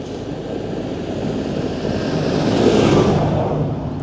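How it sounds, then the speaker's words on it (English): A tractor approaching and passing on a hillside country road, a steady broadband engine rumble swelling slightly as it nears, loud and continuous with wind noise. "There's a tractor coming."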